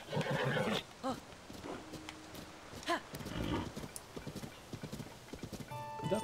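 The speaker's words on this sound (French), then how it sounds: "Est-ce qu'il est pour moi ce cheval?" In the Zelda game Tears of the Kingdom, a horse's hooves clip-clop lightly alongside several whinnies and snorts, close and fairly quiet.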